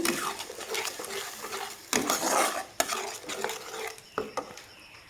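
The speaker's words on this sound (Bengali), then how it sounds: "এইভাবে আমি মশলাটাকে আমি কষে নেব" Spice paste with mustard frying and being stirred in a pan for vegetarian begun bahar, a continuous sizzle broken by scraping spatula strokes and a few sharp clinks against the pan, close and alone.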